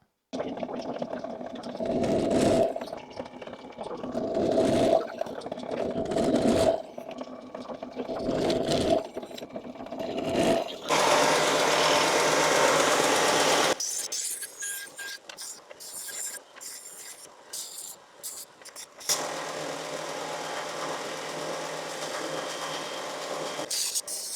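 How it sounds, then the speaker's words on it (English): A power drill bores holes into metal for a custom tubular subframe on a Triumph build, in several bursts, with clicking mechanical sounds and short pauses between runs, loud and close. "I need to drill some more in this"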